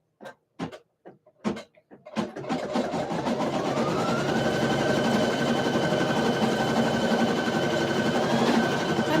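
A sewing machine runs a basting stitch around the inside of a donut shape, starting with a few separate knocks and short stitches, then settling into a loud, steady mechanical hum.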